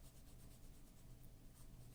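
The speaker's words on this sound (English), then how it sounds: "I'm going to lay this pencil down on its side and just see if I can lighten the whole thing up a little" A graphite pencil laid on its side shading across paper in a grayscale drawing gives a faint, steady, close scratchy rasp that runs without pause, with no voices.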